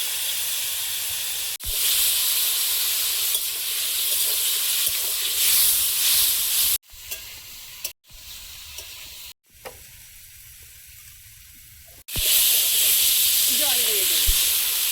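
Wet ground spice paste with ginger, cooked in a hot pan for a fish curry, sizzles and hisses loudly in bursts that stop abruptly several times and then resume, with a voice talking in the quieter gaps.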